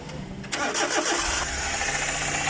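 A turbo Multicab mini truck, a latest-model unit suffering engine knocking and low oil, is cranked and catches, then settles into a loud, steady idle nearby with no talking.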